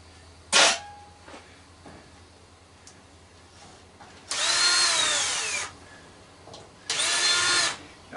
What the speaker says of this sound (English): I'm pulling all the screws out of the casing plus anything here on the back.